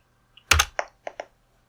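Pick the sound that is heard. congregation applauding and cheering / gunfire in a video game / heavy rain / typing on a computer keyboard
typing on a computer keyboard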